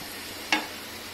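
Mutton biryani masala fries in a pressure cooker with a steady low sizzle, broken once by a single quick scrape of a stirring spoon.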